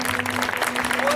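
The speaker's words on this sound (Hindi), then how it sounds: "लोग खड़े होके चंदू स्वामी जी के लिए जोरदार तालियां" An audience claps together in a dense, steady burst of applause at an Osho festival and meditation camp, with a voice speaking over it.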